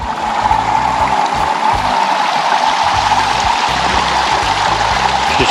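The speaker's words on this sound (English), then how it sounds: "It's got a little waterfall going on." A small waterfall on a creek pours and rushes steadily at close range, a continuous broadband wash of falling water with no break.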